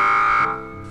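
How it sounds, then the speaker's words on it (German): Alarm in the video game Embracelet, set off near a door: a steady, harsh electronic buzz that holds for under half a second and then drops to a quieter tone. "Ja, der Alarm scheint loszugehen, sobald ich mich der Tür nähere."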